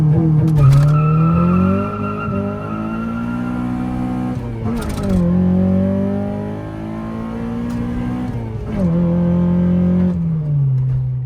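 A tuned Honda Integra GSI with a Type R lip kit launches hard off launch control, its engine revving loudly and climbing through gears with sharp shift breaks, close and dominant throughout.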